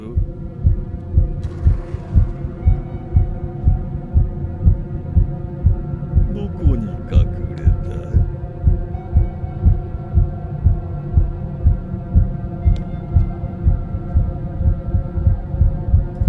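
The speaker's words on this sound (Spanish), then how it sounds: "Los latidos es cuando está cerca." Steady, rhythmic heartbeat throbbing from the horror video game The Karaoke, a low pounding pulse repeating continuously over a droning hum, with brief faint noises mid-way.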